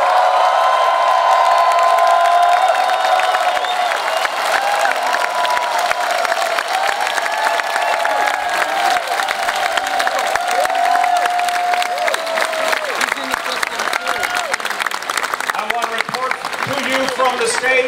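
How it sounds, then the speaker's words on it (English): A large outdoor crowd at World Pride New York 2019 roars with sustained applause, cheering and whoops, loud and continuous throughout, while a voice speaks over the noise. "I want to hear a thunderous applause for the heroes of Stonewall"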